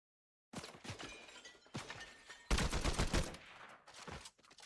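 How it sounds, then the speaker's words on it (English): Bursts of gunfire from the video game Fortnite crackle in rapid, dense volleys, with a brief pause before a louder, sustained barrage that tails off near the end. "He's firing at me."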